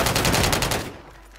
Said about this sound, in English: you want to try that gun out. That's the strikers. Try that out. Shoot it.